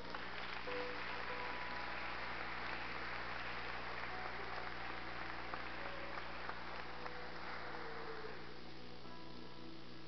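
A church congregation claps for the Lord, a dense, steady wash of applause that stays fairly soft and somewhat distant for about ten seconds before easing slightly at the end.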